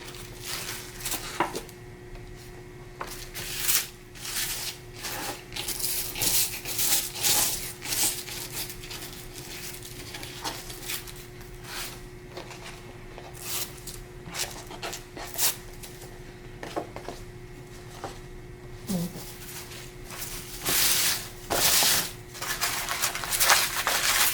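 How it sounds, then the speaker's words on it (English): Dried tissue paper is peeled and pulled apart in a series of crisp rustles and crinkly tears, close and fairly quiet, with no talk. "our paper is dry, so now we can take it apart and see our finished creation"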